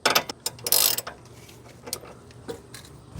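A ratchet wrench with a 19 socket clicks on the outer tie rod end bolt of a car: quick, close bursts of ratcheting up front, then sparser, quieter clicks and taps.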